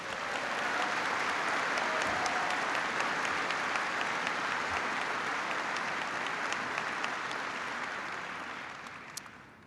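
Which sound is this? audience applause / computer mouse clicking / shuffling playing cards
audience applause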